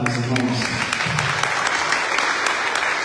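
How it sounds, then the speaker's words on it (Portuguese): Church congregation applauding after a Bible reading, dense steady clapping throughout with a few faint voices mixed in beneath. "Vamos aplaudir essa palavra, meus irmãos."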